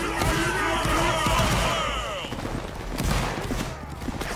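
Musket volley fire in a Napoleonic Wars multiplayer battle: clustered shots cracking at mid distance, with a voice talking over the gunfire.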